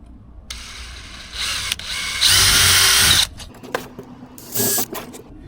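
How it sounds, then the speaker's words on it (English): A power drill boring holes into wood for a DIY wall easel, several loud whirring bursts of varying length separated by short pauses and clicks, close and alone. "Here we go, drilling the holes."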